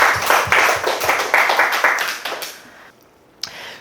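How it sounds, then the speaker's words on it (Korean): A Korean church congregation claps at a Sunday service to congratulate a couple before their wedding, with brisk, loud handclaps in a rhythmic pattern that fade out. A lone tap sounds near the end. "큰 박수를 해주시죠"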